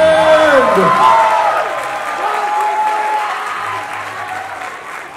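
Audience applause for the Mr. Charming winner at a Mister International pageant, a loud burst of clapping and crowd noise that settles to steady applause, with a voice over it at the start.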